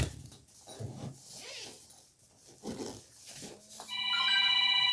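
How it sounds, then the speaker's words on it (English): A telephone breaks into a loud, bright electronic ring near the end, after a stretch of quieter rustling and handling noises up close. "Oh my God, this phone."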